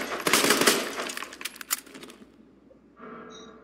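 Triple-fire burst gunfire from a weapon in Resident Evil 2, played as Leon: a few sharp bursts of quick shots up front, then a quiet lull with a faint steady hum.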